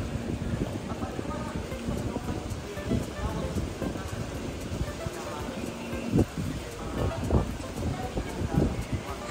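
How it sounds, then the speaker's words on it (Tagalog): Strong wind blows outdoors in Davao City, buffeting the microphone with a constant rumbling roar and gusty bursts, while muffled voices are heard faintly beneath it. "Yan o, sobrang lakas ng hangin."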